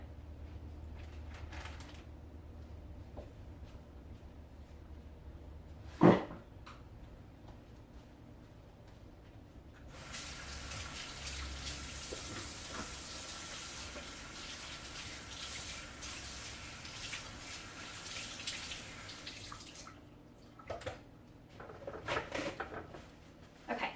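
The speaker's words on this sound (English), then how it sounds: "I'm going to try to wash my dishes as we go" Kitchen tap water runs during dishwashing, a steady hissing stream that starts partway through, holds for about ten seconds, then cuts off, with a sharp clatter and scattered handling knocks before and after.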